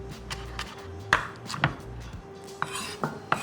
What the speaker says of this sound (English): Next, we're just gonna slice up some green onions